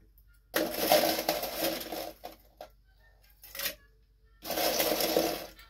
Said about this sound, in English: Get a little bit of ice in here.